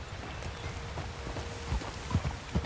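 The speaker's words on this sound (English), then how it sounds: "Okay, get on your horse." Horse hooves clip-clop in Red Dead Redemption 2, a soft, uneven patter of steps under a continuous outdoor rumble, growing a little heavier toward the end.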